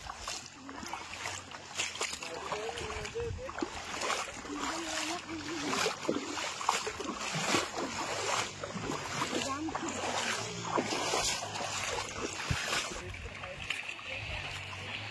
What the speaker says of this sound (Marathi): पाण्याला प्रेशर भरपूर आहे बघताय समोर. वरनं पाणी येते वाहत हे बघा.